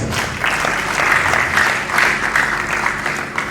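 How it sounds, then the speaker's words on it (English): Audience applause at a business summit for small and medium enterprises, a steady wash of clapping that holds for several seconds with slight swells, with no talk over it. "please give Bank of Industry a round of applause"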